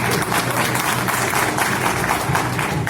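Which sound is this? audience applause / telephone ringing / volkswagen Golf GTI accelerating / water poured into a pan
audience applause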